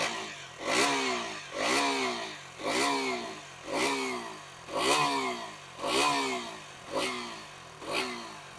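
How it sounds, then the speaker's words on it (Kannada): A 2026 KTM Duke 200 motorcycle's exhaust note, revved hard in eight evenly spaced blips, each a loud rising roar that falls back to a rough idle, up close with no talking. "ಎಕ್ಸಾಸ್ಟ್ ನೋಟ್ ಕೇಳಿಸ್ತೀನಿ ನೋಡಿ."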